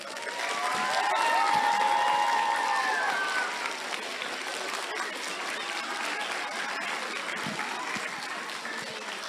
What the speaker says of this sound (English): I'd like to clap him in.